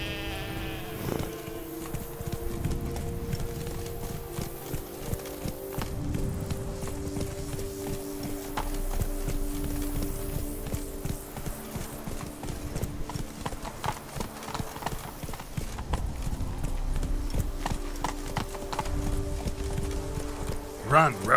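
Roach, Geralt's horse in The Witcher 3, galloping with rhythmic hoofbeats alongside game music and ambient sounds, with voices talking over it.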